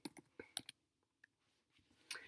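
Quiet, irregular clicks of a computer keyboard while someone types a search, a few quick keystrokes in bursts separated by short pauses, close and faint.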